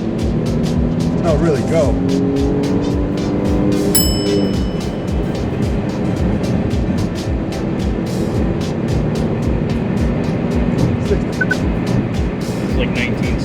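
A 2012 Smart Fortwo, a small rear-wheel-drive car, accelerates hard with a steady, loud engine drone running throughout, while people talk over it inside the cabin.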